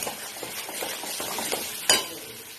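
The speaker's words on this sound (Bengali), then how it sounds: "খুব ভালো করে মশলাটা এবার আমি কষিয়ে নিচ্ছি।" Spice paste for a Bengali fish curry with bori and eggplant is sautéed in a pan, giving a faint sizzle with soft spatula scrapes and one sharper clink of utensil against the pan.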